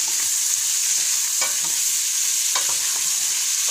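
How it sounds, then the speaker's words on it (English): A medium chopped onion frying in rendered fat in a pan for Mexican-style whole beans, a loud, steady hissing sizzle with a couple of soft stirring scrapes near the middle and end, no talking. "I'm going to go ahead and add the 1 medium onion. Give that a good stir."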